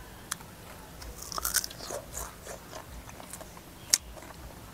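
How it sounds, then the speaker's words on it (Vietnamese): Crunchy cluster cucumbers bitten and chewed up close, a few crisp bites followed by quieter wet chewing, with one sharp crunch near the end and no talking. "Dưa chùm này ăn nó giòn."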